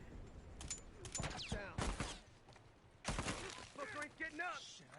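Bursts of team gunfire from The Last of Us multiplayer esports match, several rapid volleys with sharp transients, interleaved with a caster talking over the action.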